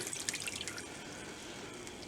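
Liquid drained from canned peas pours into a pan of cooking oil, a soft, steady trickle with faint dripping and light sizzle, close and quiet, without speech.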